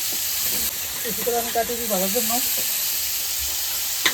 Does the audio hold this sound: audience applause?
no